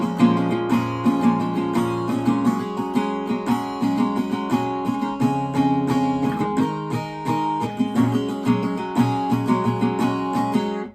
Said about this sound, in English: And so all of the guitar part for part 1 of the bridge would sound like this.